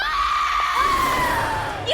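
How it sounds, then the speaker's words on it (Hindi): A long, high scream sustained for about two seconds over a noisy background, fairly loud, with a brief rising cry at the end. "ये किसकी चीख है?"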